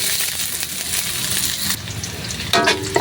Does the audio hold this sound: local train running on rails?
no